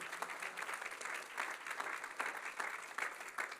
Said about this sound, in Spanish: Vamos a aplaudir al Señor en alabanza.